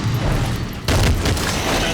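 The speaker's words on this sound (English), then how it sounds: "Flashbang!" A flashbang grenade goes off in Metal Gear Solid as a sudden loud burst of broadband noise, followed by a sustained roaring wash and ringing that lingers to the end.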